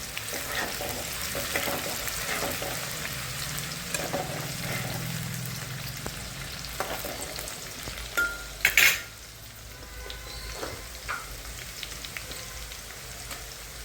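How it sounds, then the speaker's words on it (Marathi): Spring onions frying in a pan give a soft, low sizzle with light stirring, a couple of sharp metallic clanks of a utensil against the pan partway through, and no voices. "आणि पातीचा कांदा तळून घ्यायचा."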